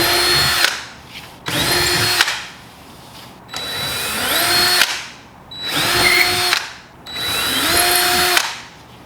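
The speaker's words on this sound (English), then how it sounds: "So now I'm just going to put my drill holes where I needed them." A power drill bores mounting holes for a MrCool ductless mini split bracket in five loud, close bursts of high whirring, each lasting one to two seconds and separated by short pauses.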